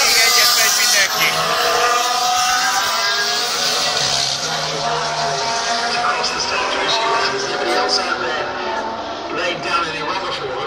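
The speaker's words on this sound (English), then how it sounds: "Starting his lap is Carlos Sainz, Fernando Alonso, and Nico Hülkenberg, who's going to be the last to cross." Formula 1 cars lap the Hungaroring, engines whining at high pitch and rising and falling as they pass. A commentator talks over the racing throughout.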